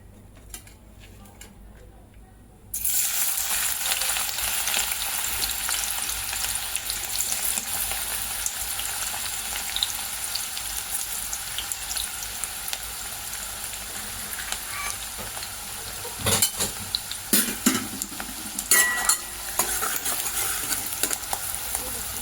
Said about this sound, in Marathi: त्याला फोडणी करून घ्यायची